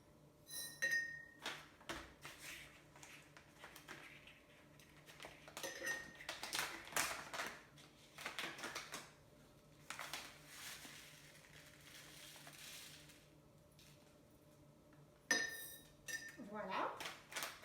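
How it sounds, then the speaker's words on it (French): A spoonful of alfalfa, red cabbage and cress seeds goes into a jar, giving close, brief clinks and rattles of spoon against glass that arrive in scattered bursts, with quiet gaps between them. "Il faut mettre une cuillère à soupe de graines dans ton bocal."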